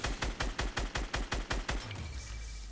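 Rapid gunfire in a video game, a burst of about a dozen evenly spaced, punchy shots fired close and loud, then a lingering low rumble and hiss once the shooting stops.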